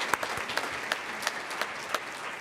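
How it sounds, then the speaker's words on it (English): Quiet, distant round of applause from a crowd at a Teacher of the Year ceremony, steady clapping with a few sharper individual claps standing out. "Let's give them a round of applause for all the hard work."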